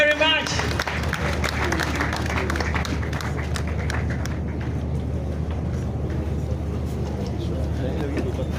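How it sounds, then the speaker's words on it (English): Audience applause at a Lagos State youth and social development ministry event, steady broad clapping over a constant low hum, fairly close and sustained throughout. "Please give him a round of applause."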